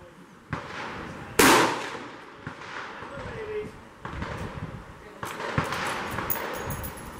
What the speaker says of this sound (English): Old 35 Remington.